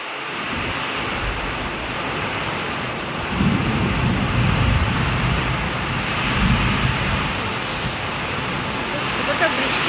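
Heavy rain pours down in a storm, flooding a house with water blowing in from one side. It makes a loud, steady, close-up roar with wind buffeting the microphone, swelling stronger partway through, while voices speak faintly underneath.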